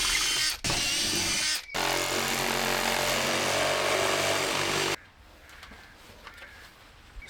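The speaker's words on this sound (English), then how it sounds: "Now I just need to drill some holes in so I can get the jigsaw in there." Loud, continuous power drill whirring in two long bursts, drilling holes in a van roof rack, with brief pauses between, then cutting off abruptly to quieter background.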